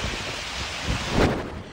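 Typhoon winds buffeting Sarat, Ilocos Norte: a steady broadband roar of strong wind with a brief louder gust surge near the end, no voices.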